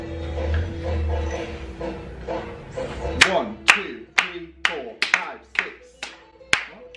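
Flamenco hand clapping at a dance lesson: after a stretch of people talking, a series of sharp, close claps follows in a steady rhythm, each crisp and ringing briefly.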